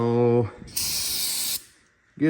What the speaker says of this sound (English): So you just take some brake cleaner.